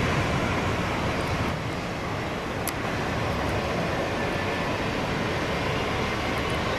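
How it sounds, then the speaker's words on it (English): A business jet taking off at Atlanta's airport makes a steady, loud, broadband engine roar that holds evenly throughout, with no voices. "It's like back-to-back biz jet."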